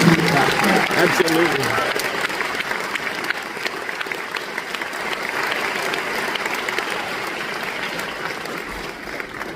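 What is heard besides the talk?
audience applause at school concert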